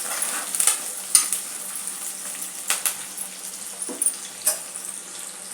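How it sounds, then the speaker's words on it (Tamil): Dried red chillies, onion and garlic sauté in a pan for a Tamil vatha kulambu, a steady close sizzle broken by occasional scrapes and stirs. "வெங்காயம் வெள்ளைப்பூடு வதங்கட்டும்."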